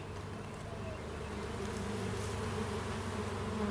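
A steady, dense buzz of many honeybees gathered outside their hive in mid-July fills the air outdoors, continuous and even throughout.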